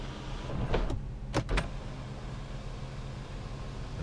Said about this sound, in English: And the shade closes.